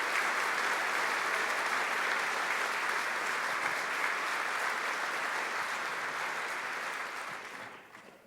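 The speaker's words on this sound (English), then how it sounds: "if we could get one more round of applause for David" Sustained audience applause fills a live event hall for a presenter named David, steady and dense for most of the stretch before tapering off near the end.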